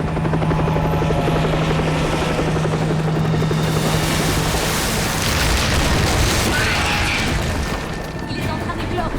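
A helicopter roars loudly and continuously in a science-fiction film scene near a volcano, with deep rotor thumping and a dense rumbling wash that lasts the whole stretch, with no clear talk over it.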